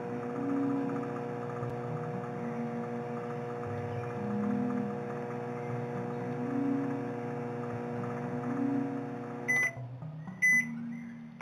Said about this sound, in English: And I heard the microwave beep.